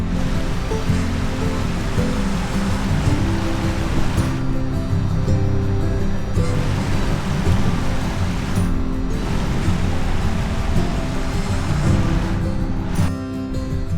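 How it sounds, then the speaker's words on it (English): Creek water flowing steadily past in an Appalachian stream near Grundy, Virginia on a quiet autumn day, a continuous close rushing wash with no voices. "give you a little bit of the water flowing by here."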